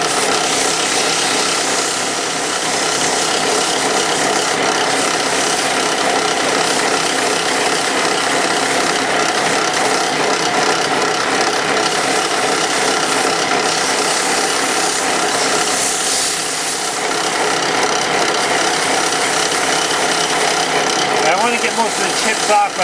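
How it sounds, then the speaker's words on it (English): Coarse 60 grit sandpaper pressed against a used piece of two-by-four pine spinning on a wood lathe, a steady loud abrasive rasp with a whirring mechanical drone running continuously throughout. "I start off pretty heavy. I'm using 60 grit sandpaper."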